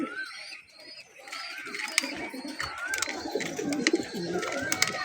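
A matched pair of kalishira-coloured pigeons coos repeatedly at close range, soft rolling calls recurring every second or so over faint background noise and occasional light knocks.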